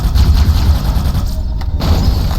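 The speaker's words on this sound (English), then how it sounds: "the reason that big explosion happens is what the needler does is it shoots needles into them, and then they all explode" Needler explosion in Halo: Combat Evolved, needles lodged in an enemy detonating together as a loud, heavy rumbling boom with crackling bursts, sustained for a couple of seconds.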